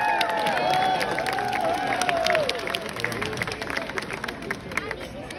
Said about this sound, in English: give it a round of applause for Corbin.